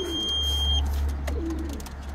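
A racing pigeon gives a soft coo at the loft after a Masterton race, under a steady low hum and a brief thin electronic tone, with no talking.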